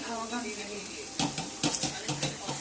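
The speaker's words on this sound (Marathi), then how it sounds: "हे बघा, शिजते कोबीची भाजी" Cabbage sabzi being stirred in a hot pan, with a steady sizzle of frying and several louder scraping stir strokes in the second half, close by.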